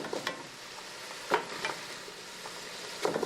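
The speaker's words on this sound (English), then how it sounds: "So the beef goes back into the pot." Chunks of browned beef sizzle as they are returned to a hot stew pot, with a steady frying hiss broken by a few sharp scraping stirs, close and clear with no talking.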